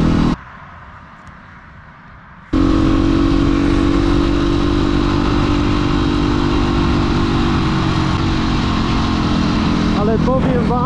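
Beta 350 supermoto motorcycle being ridden, a steady loud engine drone with a brief quieter dip near the start before the engine note returns and holds.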